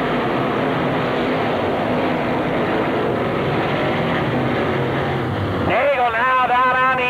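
Dirt modified race cars roaring around Penn Can Speedway during a 1999 feature race, a dense continuous engine drone from the pack, with a nearer car passing loudly near the end.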